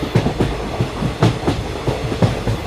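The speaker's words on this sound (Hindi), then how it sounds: "अरे कोई रोको इस ट्रेन को।" A train in an animated film rolls along the tracks with a steady, loud clickety-clack rhythm of paired wheel thumps, close and continuous with no talking.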